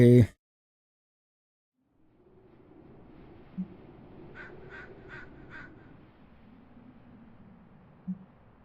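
Crows outside the Abbey in Marvel's Midnight Suns video game give a quick run of four caws, moderately distant, over a low ambient hum that follows a brief loud burst at the start.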